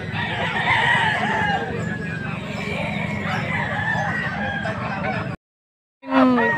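Young roosters (stags) crow repeatedly close by at a hatchery in Angeles, Pampanga, with overlapping calls and clucking, a faint voice in the background, then a short break before another crow.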